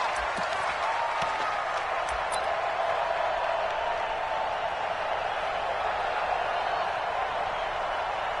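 Stadium crowd noise from an NFL video game matchup between the Philadelphia Eagles and Chicago Bears, a steady distant roar and murmur of cheering fans that holds level throughout.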